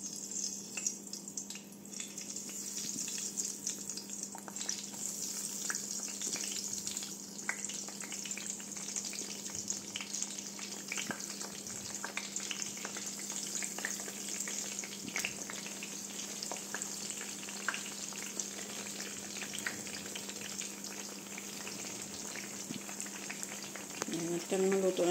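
Constant crackling sizzle of eggplant frying in hot oil, steady and close, with a faint hum in the background throughout.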